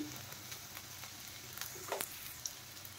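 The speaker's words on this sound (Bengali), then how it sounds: "রসুন, লঙ্কা আর পেঁয়াজটা একটু ভালো করে ভেজে নেব" Garlic, chili and onion frying in a pan, a soft steady sizzle with faint stirring scrapes and a few sharper crackles, heard alone and close.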